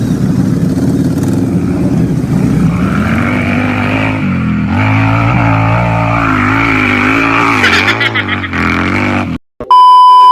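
A Suzuki Smash motorcycle with a drilled stock exhaust pipe revs loudly and steadily for about nine seconds, the engine note rising and falling with throttle blips before cutting off abruptly near the end.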